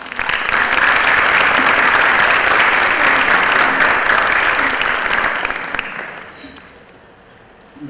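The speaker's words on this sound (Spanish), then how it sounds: "Démosle un fuerte aplauso a nuestro invitado." Audience applause for a guest speaker at an academic lecture on Near Eastern prehistory, a dense, loud burst of clapping that holds steady for about five seconds before thinning out and fading to quiet.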